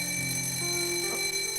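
A school lunch bell rings as one steady, continuous electric tone that stays loud and unbroken from start to finish, with no voices over it.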